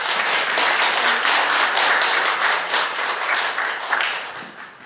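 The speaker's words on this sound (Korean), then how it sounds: "전임 회장님과 신임 회장님께 큰 박수로 격려해 주시기 바랍니다." An audience applauds at a literary association's presidential inauguration ceremony, with dense, steady clapping from many hands that fills the room and then slowly tapers off.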